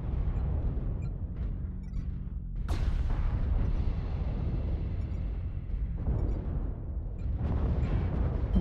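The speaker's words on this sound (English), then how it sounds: "Artillery strike online." An artillery strike in MechWarrior Online pounds a battlefield around a Timber Wolf mech: a heavy, continuous rumble broken by two sharp, loud explosive impacts a few seconds apart, with no talking.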